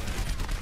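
An enemy Torbjorn turret in Overwatch fires a rapid burst of gunshots, dense and continuous over a brief moment amid game noise.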